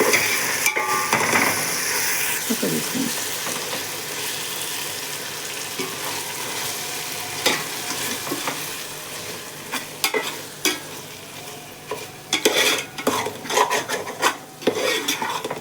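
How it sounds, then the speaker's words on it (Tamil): Tomatoes fry in a pan for pulav, a constant close sizzle with repeated scraping strokes of a spoon that grow choppier and more clattery toward the end, no speech. "ஒரு வாட்டி நல்லா மிக்ஸ் பண்ணிவிட்டு இதுக்கப்புறமா நான் ஒரு மசாலா ஆட் பண்ணிவிட்டு வந்துடலாம்"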